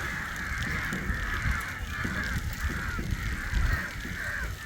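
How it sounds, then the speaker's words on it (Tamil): A large flock of crows caws continuously outdoors in the evening, a dense overlapping chorus of calls at moderate distance with no talk. "எவ்வளோ காக்கா இருக்குன்னு பாருங்க"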